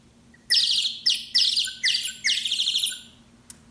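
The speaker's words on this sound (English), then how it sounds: "and the nightingale" A nightingale sings a run of five rapid, high, whistled phrases close by, followed by a single brief chirp, against a faint low hum.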